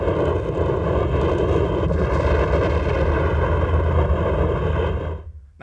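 An Ariane 5 rocket launch roars as one loud, steady, broadband rumble with deep low-end power, holding unbroken for about five seconds before cutting off abruptly.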